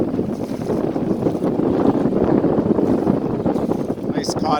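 A small sailboat runs under its 4 hp outboard motor, a steady close droning hum mixed with heavy wind buffeting and water wash, with no clear voice heard.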